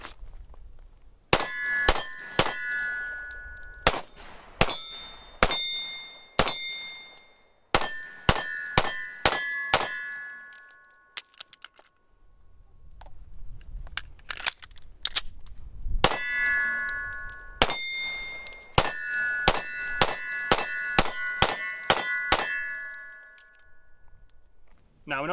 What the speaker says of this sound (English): Let's see if we can hit some of that steel.